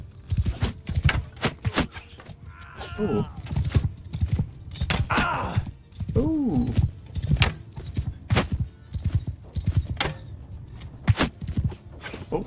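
Horse archers riding in the video game Mount & Blade 2: Bannerlord, with irregular hoof clip-clops and thuds coming in bursts, mixed with brief groans and vocal sounds.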